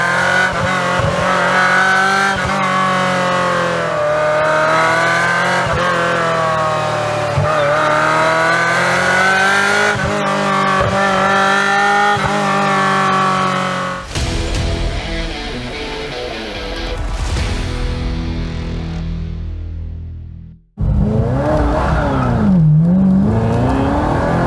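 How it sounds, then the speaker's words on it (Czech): A 1990s Ferrari F355 Spider's engine screams at high rpm, loud and close, with a sustained harmonic wail that cuts off abruptly, settles lower, briefly drops away, then surges back into another rev. "Nedělal bych tu nic jiného, než jezdil ve vysokých otáčkách."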